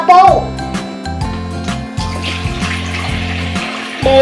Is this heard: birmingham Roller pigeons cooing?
no